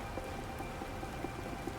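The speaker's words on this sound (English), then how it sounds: "Hey, it's raining." Steady rain falls in The Planet Crafter video game, a dense continuous hiss of raindrops with faint scattered patters and no pauses.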